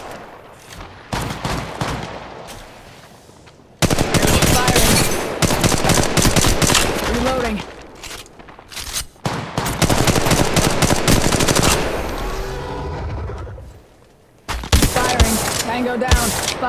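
Automatic weapons fire in the mobile shooter game Apex Legends Mobile, coming in long, loud, rapid bursts separated by brief quieter pauses.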